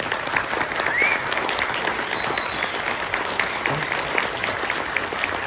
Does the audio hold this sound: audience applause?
yes